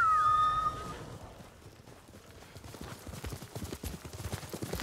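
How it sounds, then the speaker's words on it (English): A short whistle, then horse hoofbeats clopping in a steady rhythm, growing louder as the horse approaches, in Ghost of Tsushima. "Call my horse."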